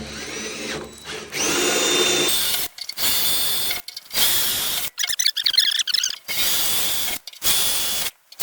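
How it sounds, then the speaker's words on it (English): A power drill with a small bit bores pilot holes for a metal trucker mailbox sign post, running in several loud, close bursts of whining with short pauses between them. "If you use a little teeny drill bit like this here to start with to make that pilot hole"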